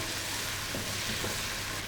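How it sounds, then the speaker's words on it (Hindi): Chicken keema, minced chicken for a karahi, frying in oil in a pan, giving a steady, close, dense sizzle that holds throughout with no voices. "कीमे को हम इतना भूनेंगे कि इससे ऑयल सेपरेट हो जाए।"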